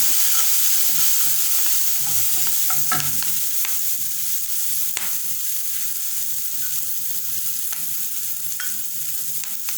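Chicken bites frying with soy sauce in a pan while being stirred, a steady close sizzle throughout with scattered scraping strokes of the utensil and occasional soft clicks.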